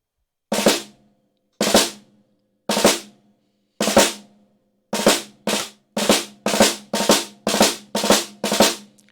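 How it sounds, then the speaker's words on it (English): Strokes on a snare drum played as rough rudiments, each with two rapid 64th-note grace notes before the main accent: ten or so crisp, close, evenly spaced hits, sparse at first and then quicker, with no talking. "some teachers like for their students to play those 2 grace notes in the 64th note position, or as 2 64th notes."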